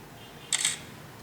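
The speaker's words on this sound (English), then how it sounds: "try to take a photograph here" A Meizu M1 Note phone camera takes a photograph in auto mode, giving one short, crisp shutter click over quiet room tone.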